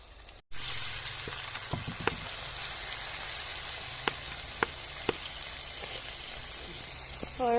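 Garlic sizzles in a pot over a wood fire, a faint, steady frying hiss with a few sharp clicks and pops scattered throughout, heard close but quiet.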